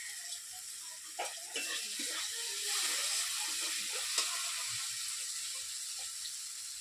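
Asafoetida sizzling as it hits hot oil for a vegetarian cabbage curry, a steady, fairly loud frying hiss that runs the whole time, with a few brief clinks and stirring sounds on top.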